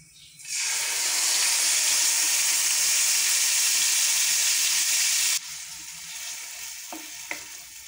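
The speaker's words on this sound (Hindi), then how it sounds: "इसको फ्राई करना शुरू करते हैं।" Chicken frying in hot oil in a kadhai for paratha rolls: a loud, steady sizzle that bursts in and holds for about five seconds, then drops to a softer crackle with a couple of small clinks, no talk.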